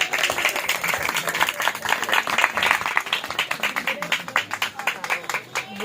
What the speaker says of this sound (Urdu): آئیے ہم روح القدس کے لیے زوردار تالیاں بجا کر پاک روح کو ویلکم کریں گے